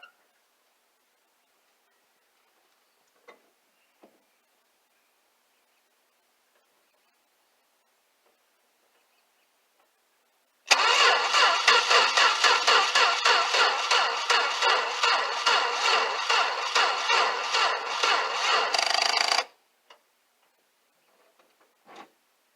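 A 1964 Plymouth Valiant engine cranks on a dead battery in one sustained stretch of about eight seconds, a steady rhythmic churning pulse. Near-silence comes before and after, broken by a few faint clicks.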